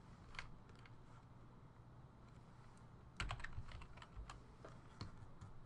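Fingers tap out a domain name on a computer keyboard in short bursts of light clicking keystrokes, quiet and close, with a brief pause and a few heavier key hits midway.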